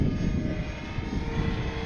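A radio-controlled scale Tecnam model airplane flies overhead, giving a steady, moderately loud propeller and motor drone with no talk.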